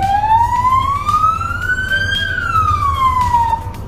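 A single electronic ambulance siren tone, in normal driving mode, glides slowly up, then back down, loud and close, over a low engine rumble.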